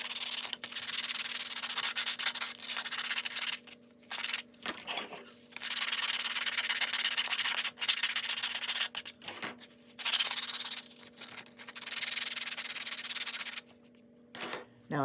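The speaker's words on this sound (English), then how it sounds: "So I'm gonna roughly sand the back of all 3 of these." Rough hand sanding of the backs of wood pieces with coarse P80 sandpaper: repeated scratchy back-and-forth strokes in bursts separated by short pauses, close and clear, with no talking.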